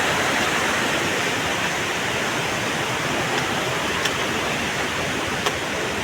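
Water pouring at Siddheshwar waterfall near a temple, a loud, steady broadband roar that stays constant throughout, with a couple of faint clicks on top.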